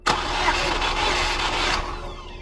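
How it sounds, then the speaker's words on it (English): A car engine cranks continuously on the starter for about two seconds during a compression test, a loud, close, steady churning whir that cuts off and leaves a fading rattle. "So now we're going to go ahead and crank it."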